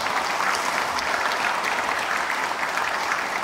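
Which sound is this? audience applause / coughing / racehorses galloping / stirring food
audience applause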